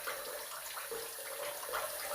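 A small splash of water running onto hands while glycerin shaving soap is lathered, a steady close wet hiss with no speech.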